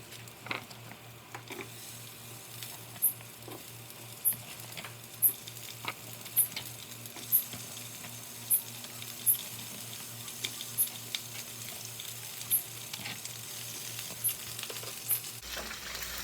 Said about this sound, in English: the onions and garlic are nicely caramelizing